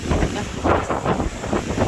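Waves lapping on the Taal Lake shore beside a damaged fishing boat, a rolling wash of water heavily buffeted by wind noise on the microphone.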